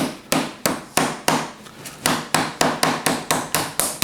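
A mallet pounds chicken meat flat under cheesecloth, about a dozen loud, close, dull thwacks in a steady rhythm that gets quicker toward the end.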